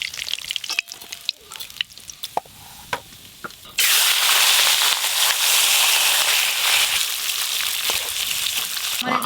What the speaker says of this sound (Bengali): এই যে এইবারে মাছ ভাজছি